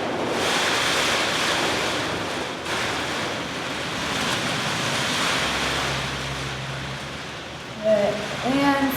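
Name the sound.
wind and rain storm outside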